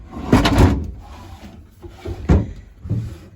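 A wooden dresser's top drawer is pulled open, giving a few short scraping, knocking bursts of wood sliding on wood, close by with quiet gaps between them.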